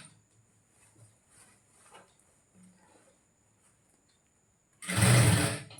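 Sewing machine stitching a blouse, a brief loud whirring run that comes near the end after a quiet stretch of faint handling.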